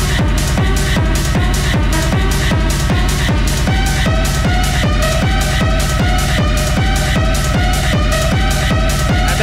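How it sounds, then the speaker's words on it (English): Relentless pounding industrial techno made with Ableton stock plugins, a heavy kick on every beat, dense distorted percussion and grinding synth layers, loud and driving throughout. "Today we're gonna make some heavy pounding industrial techno from scratch just by using Ableton stock plugin"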